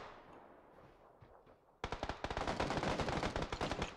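An M4 rifle in the PUBG video game fires a rapid automatic burst after a quiet stretch, the sharp cracks loud and evenly spaced for about two seconds.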